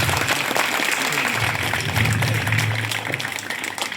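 A festival crowd at a village temple fair in Yelburga taluk claps loudly together as steady, dense applause, with people talking over it throughout.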